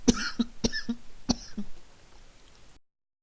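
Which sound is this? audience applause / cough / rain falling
cough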